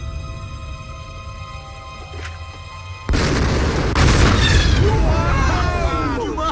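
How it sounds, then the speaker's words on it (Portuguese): A cartoon explosion: after a quiet stretch of music, a sudden loud boom bursts in and rumbles on, followed by animated character voices and effects over the aftermath. "Antes mesmo dele chegar na caixa, uma explosão acontece"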